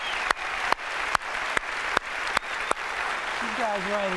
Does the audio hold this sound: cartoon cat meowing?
no